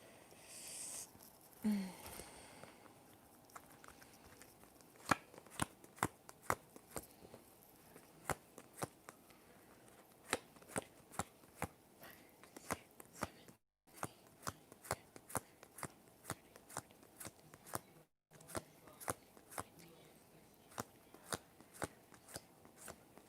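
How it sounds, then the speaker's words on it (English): A deck of tarot cards is shuffled by hand in a quiet room, giving soft, steady riffling and repeated crisp card snaps that recur evenly for over twenty seconds, with no talking. "now let me shuffle the other deck"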